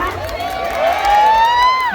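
A district cheering squad for Sra Bot cheers at a local pageant in Tha Wung, Lopburi, with loud crowd shouting and whoops building and holding across a short stretch. Whistles and a voice over a loudspeaker rise through the noise.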